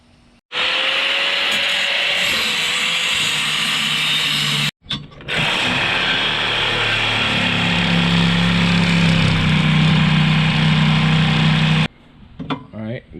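Loud, continuous power-tool cutting through thick steel frame on a beach cart build, a steady broadband roar with rising whine that runs about eleven seconds, pausing briefly midway, then stops.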